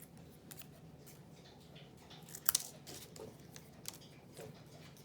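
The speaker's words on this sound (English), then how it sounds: "they're not that hard to cut with the scissors." Scissors snip through thin wooden coffee stirrers or popsicle sticks in a quiet room, a few faint crisp cuts with one sharp, louder crack near the middle.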